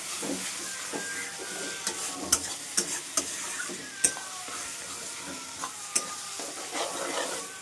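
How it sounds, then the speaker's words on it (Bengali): Capsicum and tomato stir-fry in a spice masala, a steady hiss and sizzle in the pan with a spoon scraping and clicking at irregular intervals throughout. "মশলাটা কষানো হয়ে এসছে, এবার দেবো ক্যাপসিকাম আর টমেটো।"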